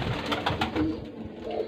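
Pigeons coo in a few soft, rounded phrases close by, rising and falling in a short burst before fading near the end, with no talking over them.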